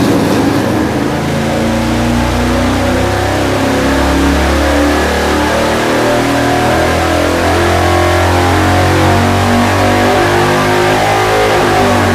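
A V8 engine, either a Chevy 350 or a Ford 351, runs hard on a dyno, a loud sustained roar held close throughout with steady low rumbling harmonics and no break.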